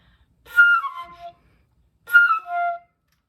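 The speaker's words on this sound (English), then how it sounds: "just start doing a chromatic scale down as far as you want" Two short descending chromatic-scale runs on a breathy flute, each sliding quickly downward through several notes, played alone with a brief pause between them.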